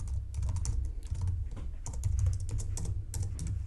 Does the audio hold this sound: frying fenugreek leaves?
no